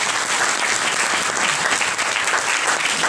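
An audience at a network marketing seminar claps loudly and continuously in a thick, even wash of applause, with no voices heard over it.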